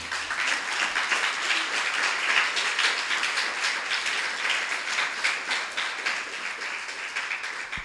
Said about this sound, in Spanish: Denle un aplauso al Señor, amados hermanos